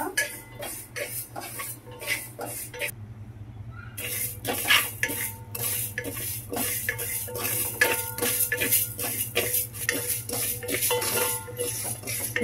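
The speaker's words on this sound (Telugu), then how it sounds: "లైట్ గోల్డెన్ కలర్ వచ్చేంత వరకు చక్కగా వేయించుకుంటే బాగుంటుందండి" Something is being fried in a pan until light golden for jaggery paramannam, a sweet rice pudding. A spoon scrapes and stirs in steady repeated strokes over a low, constant background hum, with no talking.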